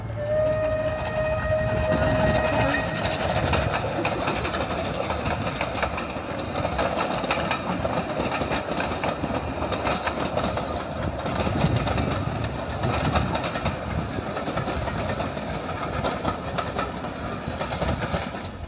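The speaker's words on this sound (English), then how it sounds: "you'll see the train coming back from Swanage" A steam train on the Swanage Railway rumbles steadily past with continuous clattering, and a brief whistle sounds at the start.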